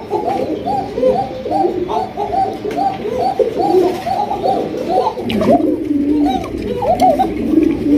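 Several pigeons coo repeatedly and close by, in overlapping throaty calls that pulse almost without pause, with no speech.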